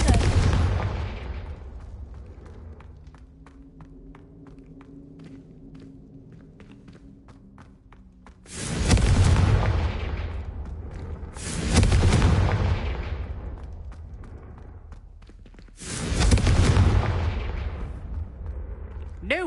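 Confringo fire spell blasts in the video game Hogwarts Legacy, three loud booming explosions with fading tails, following a quieter stretch with faint crackling and a brief tonal hum.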